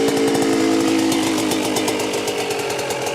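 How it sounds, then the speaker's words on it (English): A Yamaha YZ125 two-stroke dirt bike engine buzzes loud and close at high revs, a raspy rapid pulse held steady throughout with no voices. "Feast your eyes on this kick-ass two-stroke."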